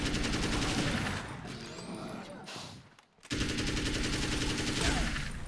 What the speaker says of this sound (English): Assault rifle time.